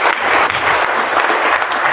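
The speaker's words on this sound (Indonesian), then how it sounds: "Tepuk tangan untuk PD Gabriel." Dense, steady applause from an audience at a church gathering, welcoming the PD Gabriel group, sustained and fairly loud throughout with no break.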